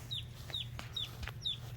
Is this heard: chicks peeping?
yes